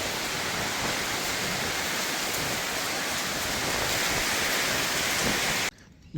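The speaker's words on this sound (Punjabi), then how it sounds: "ਹੁਣ ਮੀਂਹ ਆਇਆ ਮੀਂਹ ਝਾਂਜੇ ਵਾਲਾ" Steady, dense rain pours down on farm fields with a constant hiss, gusts of wind blended into the roar, ending in a brief near-silence.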